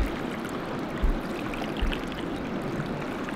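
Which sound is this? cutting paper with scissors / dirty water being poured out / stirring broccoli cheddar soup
dirty water being poured out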